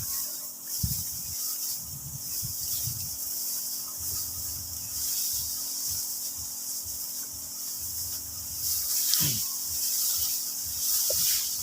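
A portable sprayer applies insecticide to tall rice plants in a paddy field. It gives a steady, close hiss throughout, with intermittent rubbing and rustling underneath.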